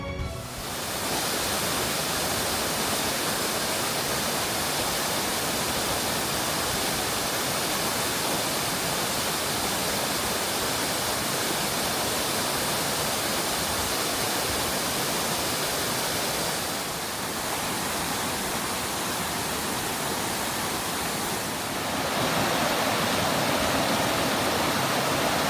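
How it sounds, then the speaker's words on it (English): Rushing water of Crabtree Falls, a steady dense roar of falling water that holds constant and full throughout, close and loud with no voices. "You know I love the sound of rushing water"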